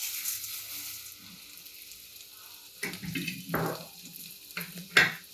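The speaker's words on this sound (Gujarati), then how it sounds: "તેલ આપણું થોડું થાય એટલે આપણે પૌવાને એની અંદર શેકી લઈશું." Poha (flattened rice) roasting in mustard oil in a pan gives a soft, steady sizzle, broken by louder scraping bursts as it is stirred, close up with no talking.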